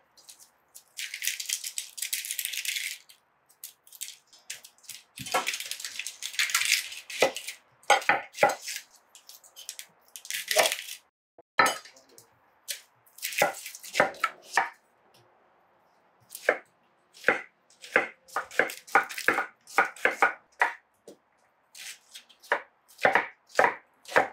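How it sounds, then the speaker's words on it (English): Rapid knife chops through onions on a cutting board, sharp wooden knocks in quick bursts and steady runs, close and alone with no talking. "chopping up the onions."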